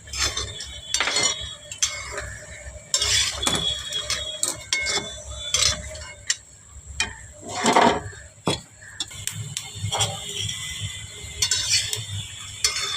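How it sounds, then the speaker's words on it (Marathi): Peanuts roasting dry in a metal pan as a spoon stirs them, making repeated scraping, clinking strokes against the pan in an irregular rhythm, close and fairly loud, with a faint sizzle underneath. "शेंगदाणे भाजून घेते"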